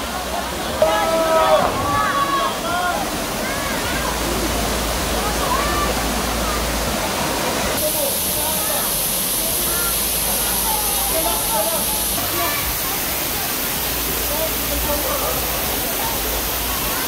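Balagbag Falls, a waterfall in Real, Quezon, roars with a steady, loud rushing hiss of falling water close by, constant throughout, while people talk and call out over it.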